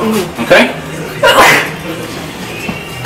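A sneeze comes from somewhere in a live audience at a stage show, a short bright burst followed by a second one, with a presenter's voice around it.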